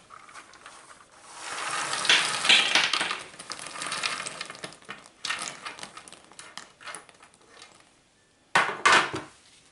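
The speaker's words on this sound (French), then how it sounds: "Maintenant je vais mettre les noisettes, oui, et mes amandes." Hazelnuts and almonds tumble into a pan for nougat, giving bursts of hard rattling and clattering, loudest around the middle, with a final sharp rattle near the end.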